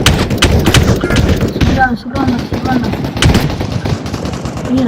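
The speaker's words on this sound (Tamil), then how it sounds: "இவங்க சுடுறாங்க, நல்லா சுடுறாங்க." Loud, rapid video-game gunfire from Minefun's infection mode rattles in dense bursts, with a voice talking over the shooting.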